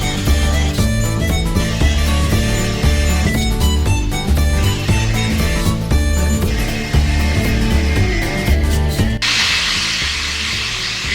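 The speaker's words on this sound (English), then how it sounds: "I'll go through there with a drill first and then ream it" A drill bores and then reams a hinge from a 1967–68 Ford Mustang door, giving a loud, sustained whine with rhythmic pulsing, then a brief break into a harsher, hissing grind near the end, close and with no voices.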